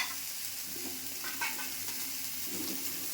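Tomatoes and chillies fry in a pan for an egg curry, giving a constant close sizzle with a few soft stirring scrapes and no talk.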